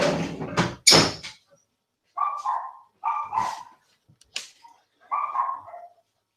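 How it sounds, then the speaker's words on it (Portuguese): A dog barks indoors in several short, sharp bursts, close and fairly loud, separated by brief pauses, along with a few knocking or door-like sounds. "Meu cachorro está aqui me dando trabalho."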